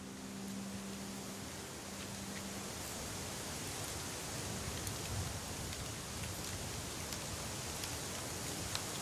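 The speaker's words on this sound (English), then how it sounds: "It's a eucalyptus plantation that exists just a couple of miles away from where we began." Steady, even broadband hiss of wind through a eucalyptus monoculture plantation, with no birds or insects, a flat rustling wash that holds unchanged throughout without any distinct events.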